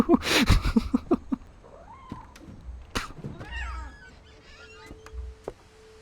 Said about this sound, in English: I thought I heard a kitty cat.